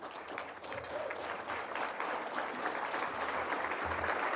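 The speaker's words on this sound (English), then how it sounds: "Give him a big round of applause." Steady applause from a luncheon audience at a 20th celebration, a dense continuous patter of many hands holding level for several seconds.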